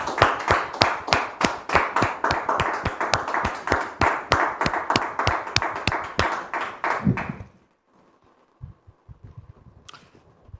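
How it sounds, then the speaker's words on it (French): A studio audience on a French talk show claps in rapid, rhythmic unison, loud and close, for about seven seconds before stopping abruptly, followed by quiet room tone and a few soft thumps. "Merci de recevoir ici et maintenant Muriel et Arnaud sous vos applaudissements"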